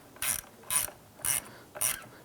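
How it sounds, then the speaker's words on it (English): A ratchet fitted with an 8mm socket snugs down a car battery terminal nut on a 2005-2007 Ford Five Hundred. Four evenly spaced bursts of close, crisp clicking each last about a quarter second, with no voices. "Use your 8mm socket to go ahead and snug this down."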